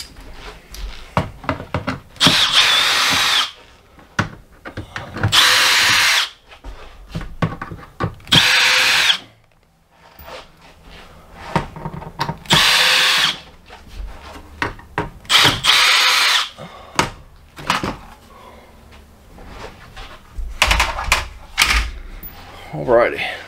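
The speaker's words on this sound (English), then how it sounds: "So let's pull out the old Milwaukee drill and get this plastic off." A Milwaukee drill run in low gear backs screws out of a plastic cover on an air conditioner that only hums. It whirs in several loud, separate bursts with pauses and handling noises between them, and someone talks now and then.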